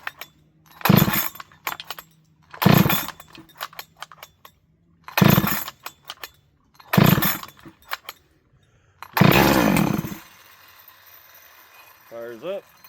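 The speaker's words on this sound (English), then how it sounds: "Choke it, and let's see if we can get this thing to fire." Holzfforma 372XP chainsaw with a little fuel and the choke on, pull-started repeatedly: five loud, evenly spaced recoil-cord rips and rattles, close up, without the engine catching.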